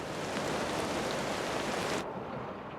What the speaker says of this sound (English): It's constantly raining,